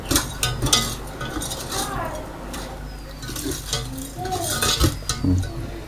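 A homemade plastic cleaner mixture is stirred in a container, giving scraping swirls and irregular light clinks and taps of the utensil against the vessel, fairly close and moderately loud.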